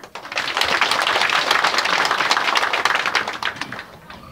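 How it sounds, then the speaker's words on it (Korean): A crowd at a K-pop showcase in a hotel basement art hall claps in a loud, dense, continuous burst that holds steady for about four seconds before tapering off, with little talk over it. "큰 함성과 호응 많이 부탁드릴게요"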